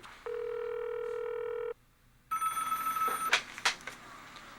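An old-style telephone bell rings in one steady, loud burst lasting over a second, then stops; after a short silence a higher electronic tone and clicks follow, with no voices.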